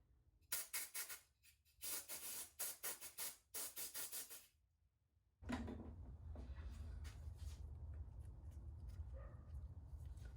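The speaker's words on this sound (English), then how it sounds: "Let's blow it out with some compressed air." Compressed air blows through a carburetor part from a Triumph 900 Triple motorcycle, first in a string of sharp short hissing bursts, then after a pause as one loud continuous blast.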